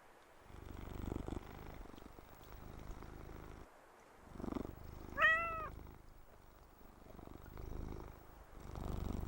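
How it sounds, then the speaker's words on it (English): Domestic pet cat purring close by in a quiet room, a steady low purr rising and falling across the clip, with a short meow in the middle; no talking. "I have a pet cat right here."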